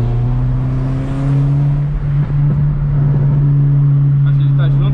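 A car wrapped in blue with piano-black trim accelerating on the road, with a loud, steady engine drone whose pitch climbs slightly before holding level, close and continuous for the whole stretch.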